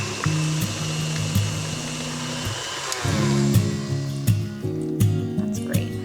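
An electric mixer beating butter into zebra cake batter, running as a steady whirring motor hum that shifts pitch as the speed changes, close and fairly loud.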